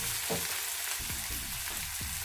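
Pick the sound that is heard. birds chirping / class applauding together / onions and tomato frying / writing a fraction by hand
onions and tomato frying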